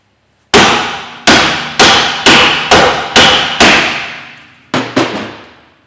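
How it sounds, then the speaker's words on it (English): A hammer tapping a wheel bearing puller while removing a Toyota Yaris rear wheel bearing, about eight sharp, loud metallic strikes, each ringing briefly, spaced roughly half a second apart with a short pause before the last pair. "I'm just going to give this another tap with the hammer."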